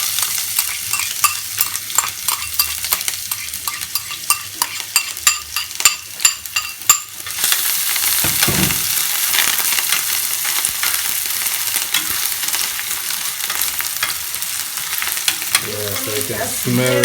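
Seasoning sautéing in hot oil in a pan for beef lasagna, with clinks and stirring over the first seven seconds, then a loud steady sizzle that carries to the end.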